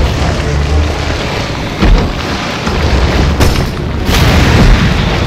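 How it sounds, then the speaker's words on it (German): A grenade explodes in Resident Evil 7 as a deep, rumbling boom. Broad blasts peak around two and four seconds over sustained loud, noisy reverberation, with no speech. "Komm, dreh dich um, dann setze ich eine Granate da rein."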